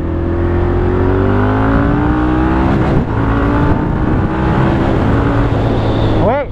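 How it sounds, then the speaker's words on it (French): A Moto Guzzi 1200 Griso SE motorcycle engine revs loud and close under acceleration, its pitch climbing steadily through the gear, with a quick upshift and a fresh rising pull near the end. "le moteur est sympa, mais par contre le rupteur arrive très vite, faut vite changer les rapports en fait."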